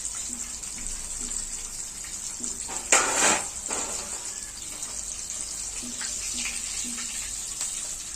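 Coated chicken deep frying in oil for KFC-style pieces, a steady bubbling hiss held close, with one louder burst of sizzle and some faint clinks.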